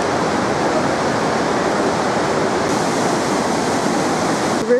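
Lihu River rushing through the marble canyon of Taroko Gorge, a loud, continuous roar of churning whitewater that stays steady and full throughout with no voices.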